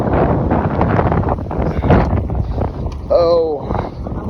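Strong storm winds buffet the microphone in a yard where high winds have downed trees and power poles. Low roaring gusts rumble steadily, and people talk over the noise.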